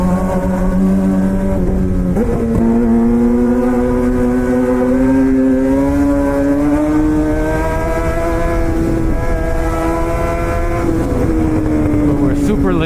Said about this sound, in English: This is a lot of traffic.